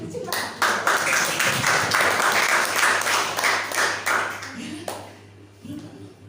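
Applause from a congregation during a church communion service, steady clapping filling most of the stretch at moderate loudness before thinning out near the end, with a voice over it.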